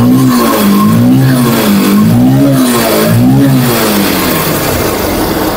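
A second-hand Yamaha FZ V1 motorcycle in fresh condition runs close by, its engine loud and steady as it is blipped up and down in a repeating rhythm of revs, with no talking.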